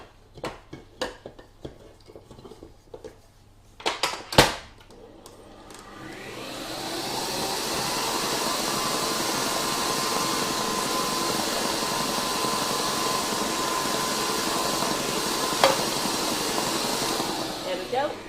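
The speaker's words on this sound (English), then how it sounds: "we'll give that a final beat on the mixer" An electric mixer beats Victoria sponge cake batter with a steady, loud whirring drone. It starts after a few sharp clatters and knocks and runs on evenly to the end.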